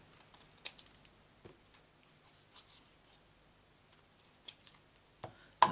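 Scissors trimming a paper piece for a Stampin' Up card project, heard as a few faint, scattered snips and rustles close by, with a sharper cut near the end.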